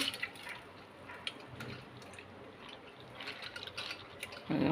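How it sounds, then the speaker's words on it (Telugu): Water drips and trickles out of soaked moong dal sitting in a metal strainer ladle in a kitchen, a faint, patchy dribble that picks up with a louder splash at the very end. "మొత్తం అంతా ఇలా జాలి గరిట్లో వేసేసాను నీళ్ళన్నీ చక్కగా కిందకి దిగిపోయినాయి"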